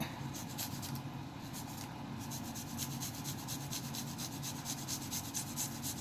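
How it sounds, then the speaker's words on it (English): Food grated by hand on a kitchen grater for a Jamaican oxtail dinner with rice and peas, fried cabbage and plantains, giving a steady, close rasping rub that repeats in quick strokes for the whole stretch with no talk. "they get harder to grate if you smash them too hard"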